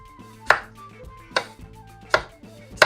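Four crisp knife chops on a cutting board as cucumber is cut into small cubes for a keto sweet potato salad, spaced evenly about a second apart with quiet pauses between.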